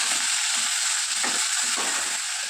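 Chopped tomatoes and onions sizzle steadily in a hot pan of oil for a street-style idli sambar, a constant loud frying hiss with occasional soft stirring scrapes and no voices.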